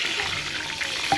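Onions frying in oil inside a cooking pot for an aloo gobi salan, a soft steady sizzle with a faint stirring clink near the end, no talking.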